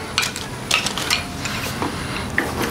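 Chopsticks scrape and clatter against a hot pan while stirring sticky spicy KSC noodles with garlic, giving close, irregular metallic taps and soft scraping with a light sizzle underneath.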